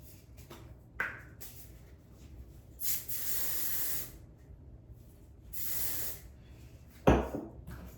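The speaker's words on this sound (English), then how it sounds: "Hairspray." Hairspray is sprayed in two short, airy hissing bursts of about a second each, with light clinks and handling knocks around them and a sharp bump near the end, all fairly close and quiet.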